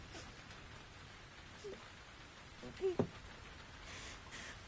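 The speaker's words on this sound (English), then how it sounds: "Could I persuade you to come out of the rain, Flora?" Steady rain falling in the video game The Invisible Hours, a constant soft hiss with a couple of brief louder knocks midway, no talk.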